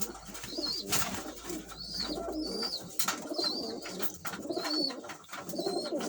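Van pigeons coo repeatedly nearby, soft throaty calls overlapping in a loose rhythm amid a busy, rustling background.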